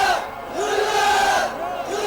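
A large crowd at a protest march in North Korea shouts in unison, loud sustained massed voices rising and falling in two long waves of chanting.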